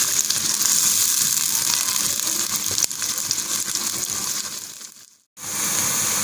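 Onions frying in hot ghee for mutton korma give a steady, loud sizzle that runs for about five seconds, dips briefly to near silence, then returns just as strongly.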